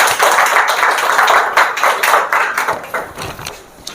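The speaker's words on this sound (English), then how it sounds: "Please clapping for her." Audience clapping for a student at a spoken English course completion ceremony, a loud, close burst of many hands that holds steady before thinning and fading toward the end.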